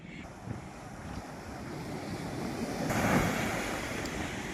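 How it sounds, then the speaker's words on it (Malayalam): Sea waves roll in and surge up the shore, a broad continuous roar swelling louder midway, mixed with gusty wind buffeting the microphone. "അടിപൊളിയായിട്ട് കയറി വരികയാണ് തിര"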